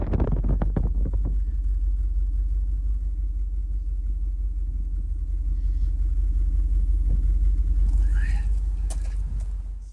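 A 1990 Mercedes-Benz 500SL roadster idles with its engine and single-muffler, dual-outlet exhaust giving a steady, close, low rumble for the whole stretch, with a few faint clicks early on.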